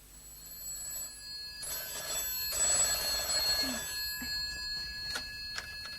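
An old telephone bell rings in bursts in a radio drama, metallic trilling over a faint background, with a couple of sharp clicks at the end.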